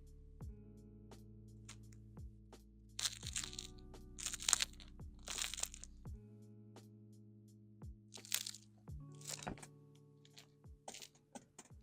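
Crust of freshly baked, olive oil soaked focaccia with a golden brown bottom crunching, several crisp crackling bursts in irregular clusters, close and clear, with quiet pauses between.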